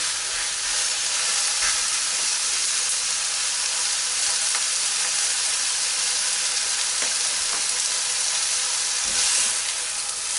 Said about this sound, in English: when you're cooking the steak like this